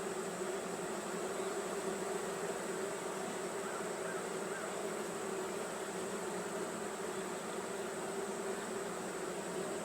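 Honeybees swarm and buzz around an open hive during queen installation and pollen patty feeding, a steady, moderately faint hum of many wings that continues without pause.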